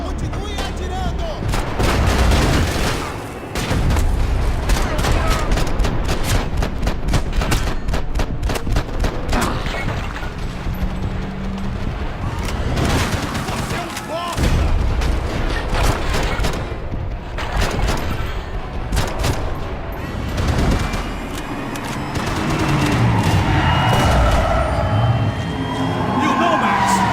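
Sustained heavy gunfire in the Max Payne 3 video game during an airport shootout, loud and continuous with rapid bursts and booms running throughout, with occasional shouting mixed in.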